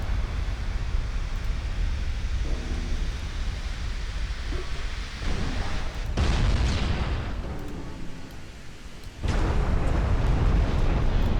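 Shell hits on a Japanese warship in a naval battle game, a continuous loud rumbling roar of explosions with heavier booming surges partway through and near the end, no voices over it.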